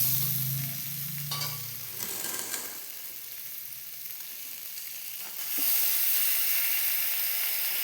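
Chicken braising in a home kitchen pan sizzles loudly as tomatoes are tipped in, with a few clattering stirs early on, then a quieter simmering hiss that swells again toward the end.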